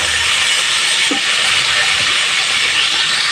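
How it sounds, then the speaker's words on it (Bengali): A constant loud sizzle and hiss of green bananas and potatoes frying in hot oil, close by and steady throughout. "কাঁচকলাগুলো দিয়ে দিলাম একসাথে ভেজে নেব আরও দুই মিনিট ধরে"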